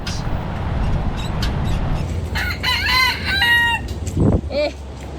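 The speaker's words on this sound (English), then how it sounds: "Rooster." A rooster crows from a few metres away along a seaside boardwalk, its drawn-out call rising and falling over a steady low rumble of passing traffic and wind, followed by a shorter second crow.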